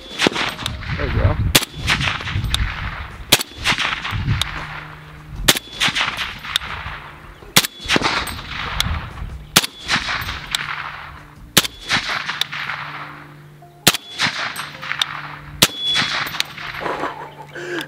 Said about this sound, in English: Let's take a couple shots here and see.